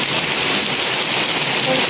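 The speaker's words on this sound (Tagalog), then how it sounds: "Sayang kasi yung ulan." Steady, loud hiss of heavy rain falling in a typhoon storm, an even wash of noise with no breaks, filling the whole stretch without speech on top.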